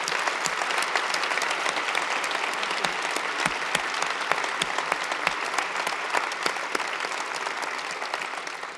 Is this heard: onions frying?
no